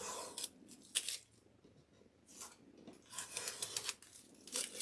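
Blue painter's tape pulled from the roll and torn for a straight paint line on a Dollar Tree door hanger craft, several short, crisp ripping and peeling bursts, close and fairly quiet.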